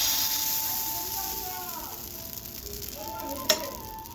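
Pitha batter sizzling and hissing in hot oil in a pan at a village Poush festival, a steady bright fry close by with a sharp tap near the end and a voice talking over it.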